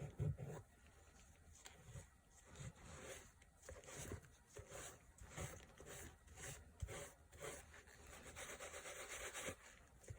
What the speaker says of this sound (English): So I'm just continuing to kind of rub on the leather